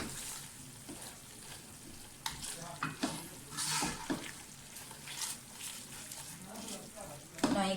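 Tomato and onion masala sizzles and is stirred in a pan for an aloo mongray curry. A spoon scrapes in quick, irregular bursts over a constant frying hiss, close and fairly quiet, with a sharper knock near the end.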